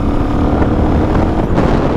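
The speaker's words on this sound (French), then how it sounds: "elle a un échappement CRD. Enfin elle doit pas avoir la ligne complète, elle doit avoir juste les silencieux. Mais ça fait quand même un bruit assez sympa" A motorcycle fitted with CRD aftermarket silencers drones steadily and fairly loud throughout, its engine note mixed with outdoor wind rumble and no talk.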